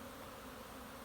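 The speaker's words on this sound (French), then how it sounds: "Ah mais les bugfast, c'est une abeille." Buckfast honeybees buzz in a dense, continuous drone, a steady swarm hum without breaks.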